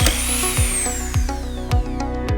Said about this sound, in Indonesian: Sekarang kita coba untuk bor dan lihat hasilnya.